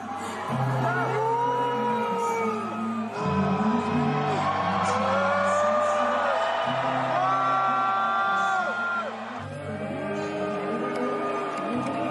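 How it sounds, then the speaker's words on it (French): Large Eurovision 2024 arena audience loudly booing and jeering during a song, with sustained crowd roar and whoops layered over music throughout, continuous and dense. "les huées qu'on entend là, on les a pas autant entendus à la télévision"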